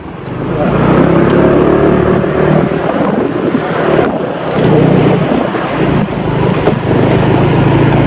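A motorcycle taxi (ojek) rides along at night, its engine drone mixed with heavy wind buffeting the microphone, loud and continuous with slight swells and dips in intensity.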